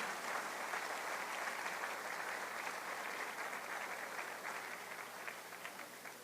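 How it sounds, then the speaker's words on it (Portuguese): A church congregation applauds together in a steady, full wash of clapping that holds throughout and eases slightly toward the end. "Uma salva de palmas a Deus."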